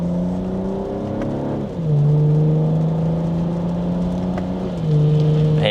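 2026 BMW M440i Gran Coupe accelerating in sport mode in second gear, a steady engine drone heard from inside the cabin that climbs in pitch, drops at a quick upshift, then climbs again, with no talking.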